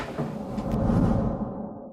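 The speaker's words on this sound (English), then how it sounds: "A door just slammed right now when I mentioned the man." A door slams somewhere nearby, a single heavy, dull thud that rolls into a low rumbling decay lasting under two seconds, with no talking.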